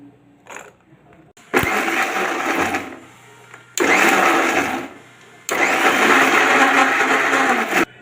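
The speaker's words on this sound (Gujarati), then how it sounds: "તો મિક્સરમાં આ રીતે ગ્રેવી તૈયાર કરી લીધી છે." A kitchen mixer grinder blends a garlic gravy for a simple paneer curry in three loud whirring bursts, separated by short pauses, starting after a brief quiet moment.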